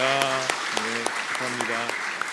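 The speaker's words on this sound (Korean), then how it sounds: "우리 박수로 환영하도록 하겠습니다." A church congregation claps steadily in welcome during a Sunday worship service. The applause is a continuous wash heard under a speaking voice.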